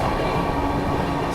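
A Central Railway rake running as a special train rolls past at close range with a dense, steady rumble and grinding wheel noise, continuous and fairly loud.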